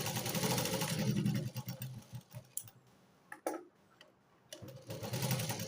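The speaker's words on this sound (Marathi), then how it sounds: "डबल शिलाई मी नेहमी करून घेते, जेणेकरून शिलाई सुटू नये" A sewing machine double-stitching joined fabric strips: a fast, even mechanical rattle in close bursts, stopping for a quiet stretch with light clicks and handling noises before running again.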